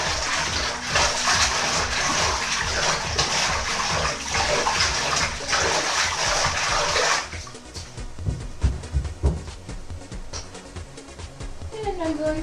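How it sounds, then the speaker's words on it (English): Water runs steadily into a basin, then a hand stirs it with light sloshing and splashing to prepare a wash for a synthetic wig, while someone talks nearby. "Okay, so I am going to mix up my water just a little bit."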